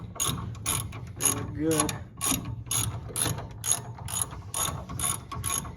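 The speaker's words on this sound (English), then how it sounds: "All right, we're getting these calipers tightened up." Ratchet wrench tightening brake calipers on a 1957 Chevy Bel Air, a steady run of crisp repeated clicks, about a dozen even strokes close up, with a brief spoken remark.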